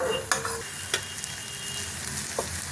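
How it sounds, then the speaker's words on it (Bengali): Sesame fritters pressed down and fried in a pan give a steady, fairly quiet sizzle, with a few sharp clinks of a spatula against the pan marking the pressing at irregular intervals. "চেপে চেপে ভাজবো কিন্তু এগুলো।"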